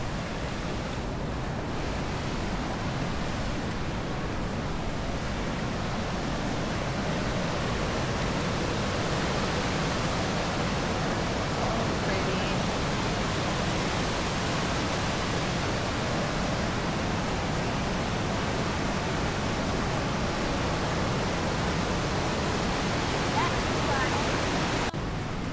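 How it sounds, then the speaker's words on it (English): A river rushes below a wooded walking trail near a resort, its broadband roar steady and loud throughout with no pauses or voices. "You can hear the river down here."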